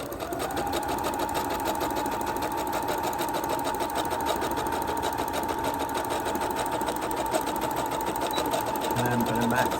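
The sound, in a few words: sewing machine back stitching ribbon on tutu socks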